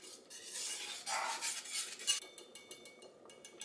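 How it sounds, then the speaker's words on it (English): Whisk stirring and scraping through milk as it thickens into a creamy béchamel sauce in a pan, a steady close rasping with rhythmic metallic clinks, loudest in the first half, then lighter strokes. "I'm just going to switch to whisk."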